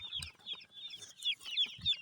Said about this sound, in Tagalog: Ito na yung sisiw.